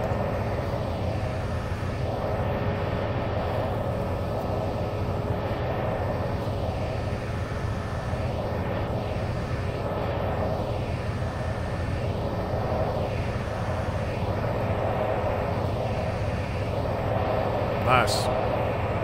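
TBM single-engine turboprop running in the X-Plane flight simulator, a steady droning engine hum with a faint rhythmic pulsing and a higher whine layered over it, continuous and fairly loud.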